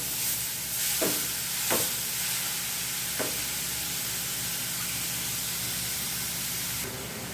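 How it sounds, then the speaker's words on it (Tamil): Beetroot sautéing in a pan gives a steady, moderate sizzle, with a few brief scraping stirs near the start and no talking. "பீட்ரூட் நல்லா வதங்கட்டும்."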